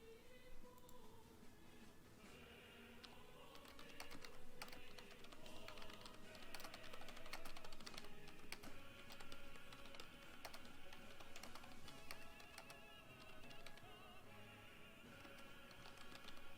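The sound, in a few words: typing on a computer keyboard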